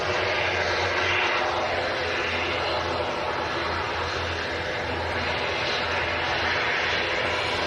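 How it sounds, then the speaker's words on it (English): An ATR 72 turboprop airliner departs Manchester Airport bound for Newquay, its engines producing a steady, loud, continuous roar and drone that holds without letting up. "ATR 72. This aircraft is going down to Newquay,"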